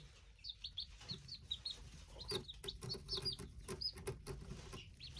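High, thin peeping from several young birds, repeated in quick bursts over a low background murmur, fairly close.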